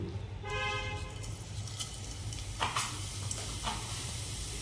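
Cumin seeds sizzle in hot oil in a pan already holding garlic, dried chillies, green chillies and onion. A steady, moderate frying hiss runs throughout, with a few brief clicks and clatters on top.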